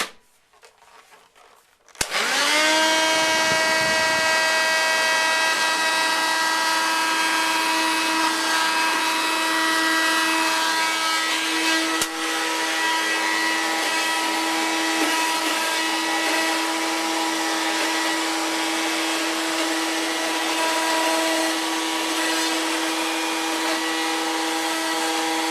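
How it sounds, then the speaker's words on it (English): A vacuum cleaner starts with a sharp switch-on and runs loud and steady, its motor whine holding a constant pitch as it sucks up loose ballast from a Hornby Trakmat model railway layout, close by with no talking. "hoover up what is not stuck."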